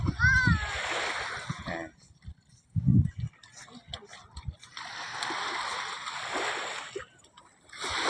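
Someone bathing, with water splashing in bursts of loud, close sloshing separated by quieter gaps, while someone talks now and then between the splashes.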